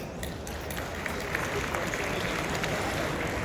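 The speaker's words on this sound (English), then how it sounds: "big round of applause for them, please" A conference audience applauds the organizers with a continuous wash of clapping at moderate level, steady throughout without a clear rise or fade.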